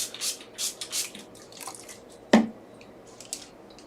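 Brush strokes applying water to an acrylic portrait painting, with a few soft wet dabs and one sharper squishy tap midway, faint and close with no talking.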